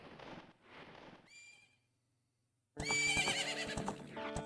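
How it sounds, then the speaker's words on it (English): A horse neighs loudly in Zelda Ocarina of Time, a bright whinny bursting in after a brief quiet gap, with game music and sound effects before and around it. "Oh, now the horse."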